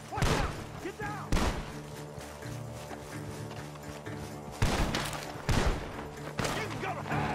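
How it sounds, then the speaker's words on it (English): Gunfire rings out from a barn in Red Dead Redemption 2, several loud sharp shots spaced across a rumbling background of game noise and hoofbeat-like thumps, with voices mixed in. "The gunshots are coming from that barn!"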